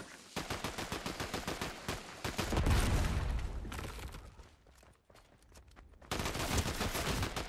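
Rapid automatic gunfire in a Fortnite body-cam custom map: quick rhythmic shot bursts, a heavier boom, a short lull, then another fast volley, loud and close with no talk.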